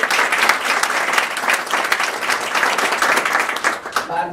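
A crowd at a Global Entrepreneurship Week kickoff in Lexington, Kentucky breaks into loud, close applause, many hands clapping in a dense, continuous burst that stays strong throughout.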